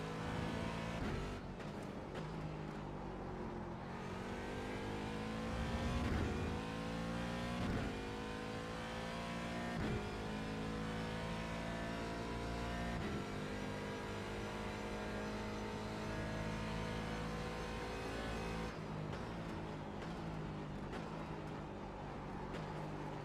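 A Porsche race car engine in the iRacing video game, a continuous loud drone that rises and falls through repeated gear shifts and revs. It runs alone and without pause for the whole stretch.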